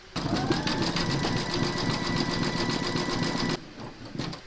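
An embroidery machine runs a satin stitch around the edge of a notebook-cover tab in gold thread, a steady, rapid, close mechanical whirr with rhythmic needle clatter that cuts off abruptly near the end, followed by brief quieter handling.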